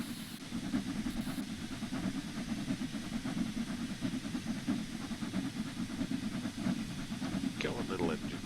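A steam locomotive in Train Sim World 3 works hard up a gradient, its low, rhythmic chugging and hiss running steadily and fairly loud throughout.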